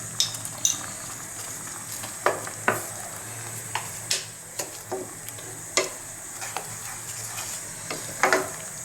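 Tomato thokku frying and sizzling in a pan while being stirred, with scattered scraping clicks of a spoon against the pan over steady close sizzle.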